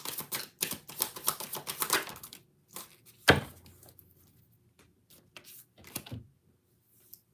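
Rapid crisp flicking and riffling of tarot cards being shuffled, a quick burst then scattered softer snaps and taps with pauses between.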